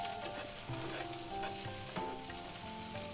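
Mustard oil sizzles and crackles steadily in a hot pan, with faint stirring scrapes and small clinks over a continuous frying hiss, no voices.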